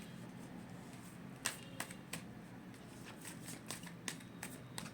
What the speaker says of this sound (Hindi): नेक्स्ट एक्शन का कार्ड ले लेती हूँ